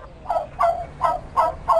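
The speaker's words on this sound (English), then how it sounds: "he saw some hens pecking and scratching" Cartoon hens in a children's animated farm scene, five rhythmic clucking calls repeating about every third of a second, close and fairly loud with no speech.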